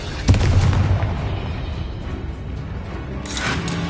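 A Confringo fire spell explodes in a Harry Potter Hogwarts video game duel. A sharp booming blast hits early, followed by a rumbling, crackling tail, and another burst of noise rises near the end.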